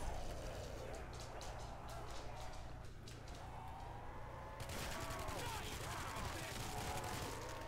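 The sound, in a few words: gunfire shooting zombies in Call of Duty Zombies video game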